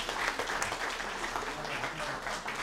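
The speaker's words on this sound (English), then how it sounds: "Can I get all of our storytellers to come up to just do one bow all together so we can give them a big round of applause?" A community audience at an immigrant storytelling event gives the storytellers a big round of applause, a steady, dense roar of many hands clapping that holds throughout.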